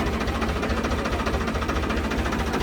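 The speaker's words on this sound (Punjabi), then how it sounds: "ਆਵਾਜ਼ ਚੈੱਕ ਕਰੋ ਟਰੈਕਟਰ ਦੀ" Steady, loud drone of a Farmtrac 45 tractor engine running at a constant pace, with a rough low throb and no talking.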